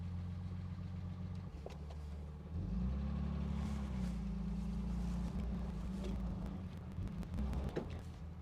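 A 1962 Jaguar E-Type 3.8 Series 1 drives off, its engine a steady low rumble that swells slightly as it pulls away, with faint rattles and bumps near the end.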